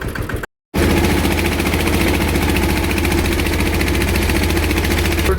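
After a brief cut to silence, a tractor engine catches and runs loud and close with a rapid, even, hard-edged chugging that continues to the end.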